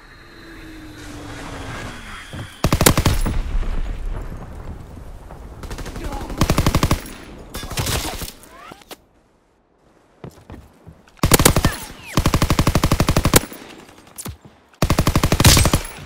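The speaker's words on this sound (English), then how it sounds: "Enemy strafing run incoming. Get to cover!" Rapid machine-gun bursts from a strafing run in Call of Duty WWII rattle out in several loud, separated volleys, with rumbling battle noise beneath and a near-silent gap in between.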